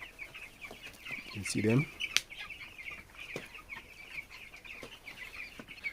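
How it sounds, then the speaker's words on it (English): Broiler chickens, about 304 birds in a poultry house, cluck and chirp at a steady low level, with one louder call rising in the middle while a person speaks briefly. "We have altogether 304 broilers in here."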